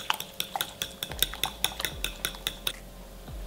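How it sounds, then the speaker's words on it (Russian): Basil and sweet paprika flakes being stirred into a dish, with a steady run of quick metal clinks of a utensil scraping against the pan, close and fairly rhythmic, about a dozen strokes. "чуть-чуть базилика и сладкой лепестковой паприки. Хорошенечко перемешиваем."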